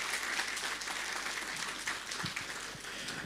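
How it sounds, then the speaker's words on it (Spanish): Steady applause fills a Sunday church service, a congregation clapping continuously at moderate distance without pause. "Una vez más, por favor, vamos a dar fuertes aplausos."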